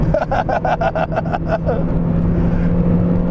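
A 1999 Mazda Miata NB accelerating gently, heard from inside as a low, steady engine drone with a few rhythmic pulses early on, close and moderately loud.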